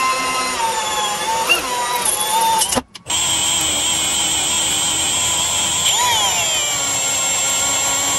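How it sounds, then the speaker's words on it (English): A power drill whirs steadily and loudly through a Jeep JL body while installing a roll cage, pausing briefly once before spinning up again, its pitch shifting as it bites into material. "we'll go ahead and start drilling"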